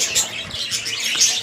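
Pet birds chirp in their enclosure, a continuous bright twittering of several small birds close by with no talking over it.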